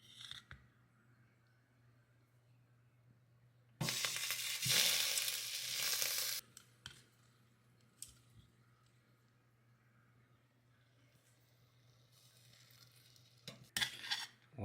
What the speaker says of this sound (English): Let's put in the beef short ribs.